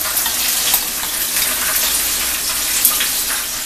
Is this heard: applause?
no